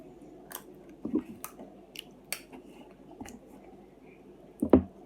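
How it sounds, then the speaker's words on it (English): Crab shell at a seafood boil is chewed close to the mic, with a run of small crunches and clicks and a louder crack near the end, and no talking. "I like chewing on crab skin."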